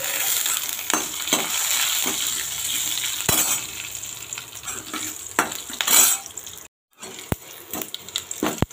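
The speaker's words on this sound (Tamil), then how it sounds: "பச்சை மிளகாவும் 1 நிமிஷம் நல்லா வதக்கியாச்சு" Green chillies sauté in a pan for bread upma: a close, steady sizzle with scattered scraping strokes and spatula taps, briefly cutting to silence before the frying and stirring resume, no one talking.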